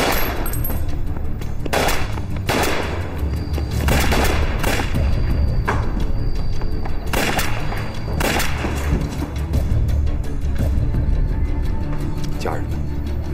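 Rapid bursts of machine gun fire from a Chinese TV drama battle against Japanese soldiers, loud repeated volleys mixed with booming impacts and shouting voices throughout.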